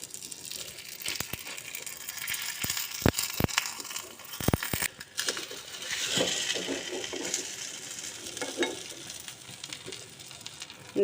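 Food cooking in a covered pan, with a low bubbling sizzle broken by scattered sharp clicks and clatters of the lid, and faint crackling underneath.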